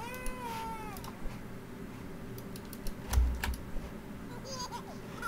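A cat meows a few times, a light, rising-and-falling cry heard near the start and again toward the end, over a steady background of soft clicking and room noise.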